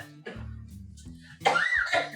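A woman coughing over her breakfast: a few rough, close coughs, a short harsh burst at first, then a louder, more forceful cough near the end.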